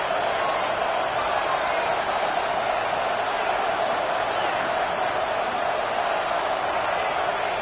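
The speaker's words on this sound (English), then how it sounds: "Listen to the crowd energy here in the early going." Football stadium crowd cheering early in a game, a constant, dense roar of many voices that holds at an even level throughout, with no single voice standing out.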